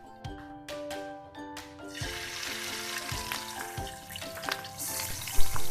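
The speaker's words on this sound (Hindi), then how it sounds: "इसके अंदर थोड़ा सा हम घी डालेंगे और हमारा जो स्टीम्ड चिकन है उसको हम हल्का हल्का फ्राई कर लेंगे।" Steamed chicken fries in ghee in a kadhai, a loud, constant sizzle and crackle that builds and stays busy throughout, heard close up with melodic background music and no speech.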